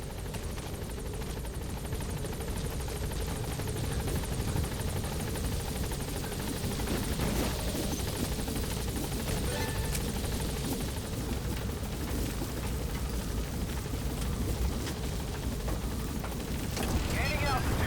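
A helicopter in the video game Metal Gear Solid V hovers over a landing zone, its rotor and engine making a steady, loud, dense roar that holds for the whole span while a voice talks over it.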